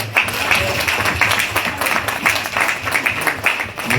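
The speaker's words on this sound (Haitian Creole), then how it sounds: "Nous demandons de l'église là pour battre un gros bravo pour nous." A church congregation claps together in steady, dense applause at a Mother's Day service, loud and close throughout with no voices standing out.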